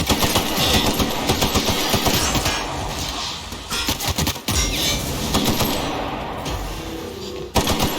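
Gunfire rattles through a firefight in the video game The Outer Worlds, with dense, loud bursts of shots running almost continuously and only a few brief gaps.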